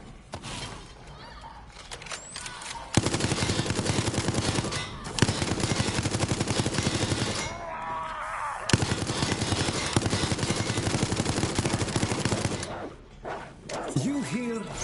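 Sustained automatic turret fire in the online horror game Resident Evil Resistance, loud dense bursts running for long stretches with brief gaps, close and dominant, with faint game sounds between bursts.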